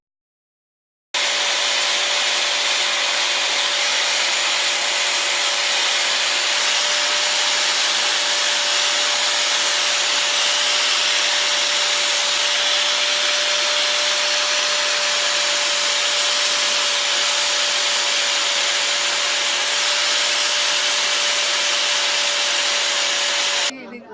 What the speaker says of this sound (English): Using a die grinder, Mr. Karunakaran is polishing a metal surface.